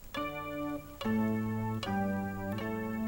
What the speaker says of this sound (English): We have more of an organ type sound.